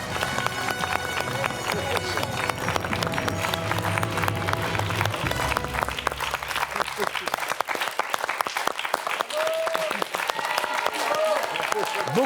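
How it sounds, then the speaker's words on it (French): A game show studio audience breaks into loud, sustained applause, dense clapping that carries on throughout, with a voice talking over it at the start. "Pascal qui applaudit"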